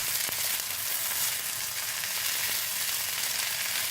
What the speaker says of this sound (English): Sauté bhindi until they are tender and cooked.